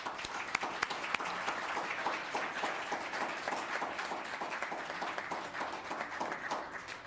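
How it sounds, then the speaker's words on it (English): A town council meeting audience gives a round of applause, sustained dense clapping from a room of people lasting several seconds with no talk over it. "Let's give her a round of applause."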